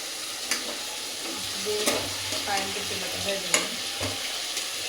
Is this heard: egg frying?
yes